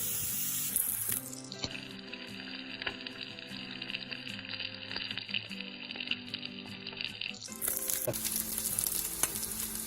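Pancetta fries in a pan with a steady, close sizzle and occasional stirring clatter, the crackle holding evenly for several seconds with music playing faintly behind it.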